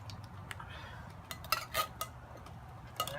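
A metal spoon clinks against a cast-iron Dutch oven during outdoor chili cooking, giving a few sharp, light taps and scrapes over a low background rumble.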